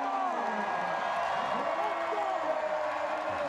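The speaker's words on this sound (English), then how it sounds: "Rob Kearney getting the crowd fired up here at Dell Diamond." A crowd at a strongman stones-over-hitching-post event at Dell Diamond cheers and whoops in a steady roar, with a commentator's voice running over the noise.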